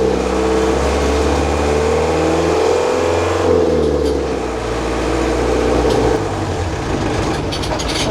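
A car engine runs steadily in fifth gear, a loud continuous drone with a low hum that shifts slightly in pitch midway, heard alone without voices.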